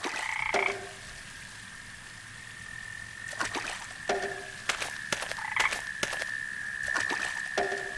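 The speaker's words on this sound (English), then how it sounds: "I always loved going to bed and hearing frogs sing in the pond." Several frogs croak at a pond in a game scene, with loud repeated calls coming in clusters over a steady high-pitched drone and faint background ambience.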